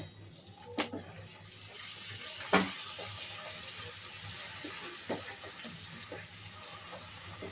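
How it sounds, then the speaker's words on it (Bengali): A small amount of water is poured into a pan of spiced masala for a hilsa fish curry, a faint splashy trickle with a couple of soft clinks in a quiet kitchen. "সামান্য একটু জল যোগ করব।"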